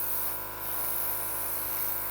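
A cake-decorating airbrush sprays water-based colour in a steady, quiet hiss with a faint buzz from the tool, unbroken for the whole stretch and with no talk over it.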